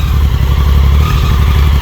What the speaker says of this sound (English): It's got that triple whine.